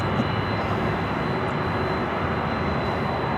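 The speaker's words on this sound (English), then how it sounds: "Another Delta 767 heading toward us," A 25-year-old Delta Boeing 767-300ER jet passes over Los Angeles LAX, its engines a steady, broad roar filling the short stretch with no voices.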